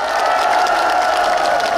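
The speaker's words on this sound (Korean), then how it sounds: "다 같이 내년에도 더 멋진 그 새우젓 축제 기다리시면서 박수 한번 해보시죠." A crowd at the closing ceremony of the Mapo Naru salted shrimp festival applauds, a dense, steady wash of clapping and cheering that holds at full volume throughout.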